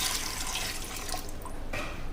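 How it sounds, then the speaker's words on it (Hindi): Water is poured into a pressure cooker holding urad dal for dal makhani, a steady close splashing stream that thins out near the end. "ये उड़द हम कुकर में डाल देते हैं और इसमें डालते हैं हम 1 लीटर पानी"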